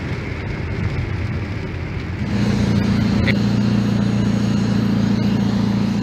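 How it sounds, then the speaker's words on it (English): A Mini Cooper S with a muffler-delete exhaust idles loudly and steadily nearby on a rainy street, its deep drone swelling up partway through and holding strong against the hiss of rain. "That's a Mini Cooper right there. It sounds so good."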